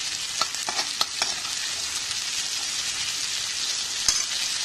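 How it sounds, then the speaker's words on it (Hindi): Ginger-garlic masala frying in a pan for Paneer Lababdar, giving a steady, fairly quiet sizzle with a few soft stirring clicks and scrapes and no talking. "अदरक लहसुन का कच्चापन चले जाए जब तक हमको उसको भूनना है।"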